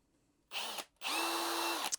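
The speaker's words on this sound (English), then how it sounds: "This is the performance drill from PARKSIDE." PARKSIDE performance drill spins in two bursts, a short whir followed by a longer steady whine that winds down, used to lock a countersink bit in the chuck, close and alone.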